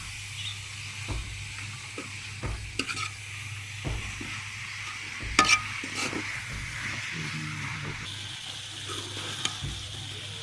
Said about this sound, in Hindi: अभी डालेंगे पालक, इसको भी अच्छी तरह भून लेंगे